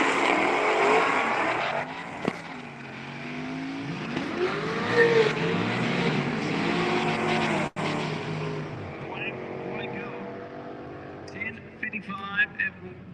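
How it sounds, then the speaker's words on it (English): A twin-turbo 1967 Ford Mustang with a 363 cubic inch small block and manual shifting runs at a drag strip. Its loud, rising engine roar and revving sweeps continue under steady announcer commentary, with a sharp break midway. "the 67 Mustang, the 363 cubic inch small block Ford, manually shifted twin turbo car"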